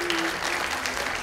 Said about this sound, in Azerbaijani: Təşəkkürlər, alqışlayırıq.